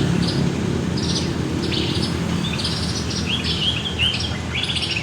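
Short, high chirping begging calls of a magpie-robin fledgling repeat in quick clusters over a low background rumble, with no talking.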